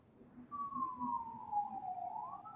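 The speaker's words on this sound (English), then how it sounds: "I heard some police sirens." Distant police car siren wailing faintly, one long sweeping tone rising and falling over quiet background hum, with no speech.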